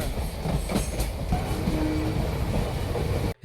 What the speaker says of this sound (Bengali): আমাদের ট্রেনের পাশ দিয়ে হচ্ছে জয়নগর এক্সপ্রেস।